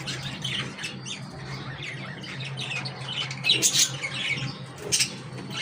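Pet parakeets fighting inside their cage give sharp, harsh squawks in short bursts close by, mixed with scuffling. A low hum runs beneath, and there is no talking.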